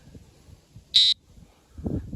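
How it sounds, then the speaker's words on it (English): Fishing bite alarm receiver emitting a single short, loud electronic beep, with faint handling noise before and after. "it'll show me it's the red bite alarm that's gone off"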